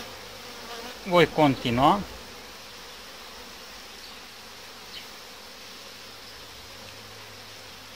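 Honey bees hum steadily at an open hive frame holding brood, a low continuous buzz throughout, while a voice speaks briefly near the start.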